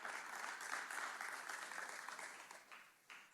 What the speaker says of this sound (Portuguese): Sim, podem bater palmas para isso.